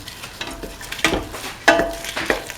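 Spoon stirring red chili into a potato and chickpea curry in a pan, a few scraping strokes with soft sizzling in between, close and fairly quiet.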